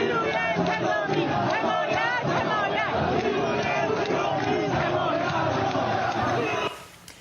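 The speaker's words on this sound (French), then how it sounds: "Explosion de joie dans la foule." A large crowd of protesters in Iran erupts in loud, sustained cheering and shouting, many voices roaring together up close before cutting off abruptly at the end.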